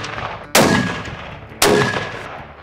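Two loud, sharp unsuppressed rifle shots fired outdoors while zeroing for a chamois hunt, about a second apart, each with a bright crack and a long decaying echo.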